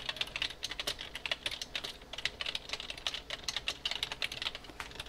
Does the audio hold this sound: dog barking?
no